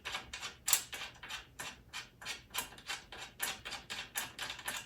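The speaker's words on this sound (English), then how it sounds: "So you have to remove all of these 6 screws." Screws are being removed one by one while a DeWalt DWX726 miter saw stand is assembled, giving close, quiet, irregular ratcheting clicks in quick repeated bursts.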